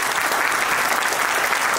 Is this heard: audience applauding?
yes